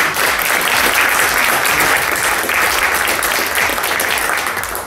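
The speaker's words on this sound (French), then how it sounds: "Je pense que ça mérite une main d'applaudissement." Audience applause at a public talk on a citizen's guide to environmental law, dense continuous clapping from a sizeable crowd, loud and sustained throughout.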